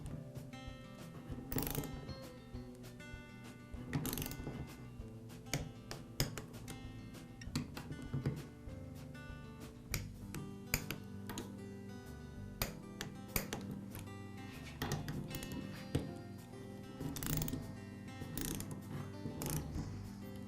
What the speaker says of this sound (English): I'll torque the head bolts in a crossing pattern.